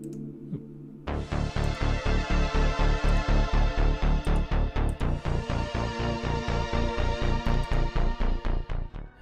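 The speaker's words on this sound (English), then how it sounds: "And then next was the bass synth" A punchy synthwave bass preset called Crisp Anna Bass in FL Studio's Flex pumps out a fast, steady pattern, loud and driving after a brief quieter intro, with no voices.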